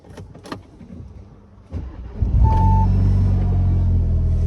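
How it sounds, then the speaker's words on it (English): An Audi S3 with a resonator-deleted exhaust fires up from cold after a few warning chimes, the engine catching with a burst and settling into a loud, steady droning idle, heard close up. "Here's a cold start."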